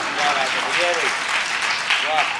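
Audience applause and appreciative cheers at a Hindi poetry recital, a continuous dense patter of clapping lasting a couple of seconds, with brief voices calling out over it.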